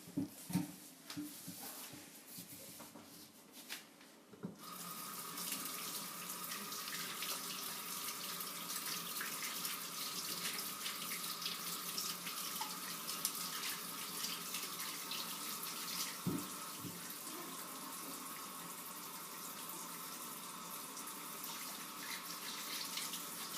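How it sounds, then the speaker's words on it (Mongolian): Tap water runs steadily into a sink as vegetables are washed, a continuous close splashing stream that starts after a few seconds of handling sounds and carries on without a break. "За юуны өмнө угааж бэлтгэх ногоонуудаа угаацгаая"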